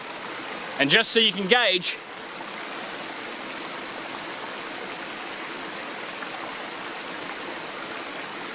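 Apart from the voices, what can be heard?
water flowing out past a rock dam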